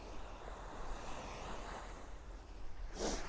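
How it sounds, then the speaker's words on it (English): Ocean surf rolling onto the Lanzarote shore, a steady broad wash of breaking waves with wind noise buffeting the microphone and a brief louder gust near the end; no talking. "So there's the waves coming in, look."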